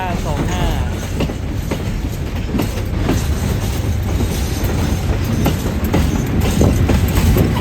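Thai SRT train with GEK 4008 and GEK 4010 locomotives, a loud, continuous rumble and roar of wagons rolling past close by, with rhythmic clickety-clack of wheels over rail joints throughout.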